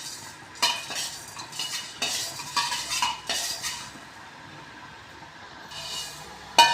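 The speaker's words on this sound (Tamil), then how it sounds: "லைட்டாக வறுத்து எடுத்தால் போதும்." A spoon scrapes and stirs spices being dry-roasted in a pan for ginger rasam, making repeated rhythmic metallic scraping strokes that fade into a quieter stretch before one last clink.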